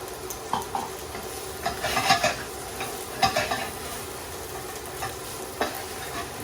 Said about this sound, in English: Give that a good mix and fry those on a low heat for around 3 minutes.